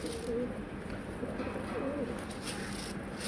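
Soft, low cooing comes from Arab and rusty breed pigeons with newly hatched chicks, faint against steady background hiss.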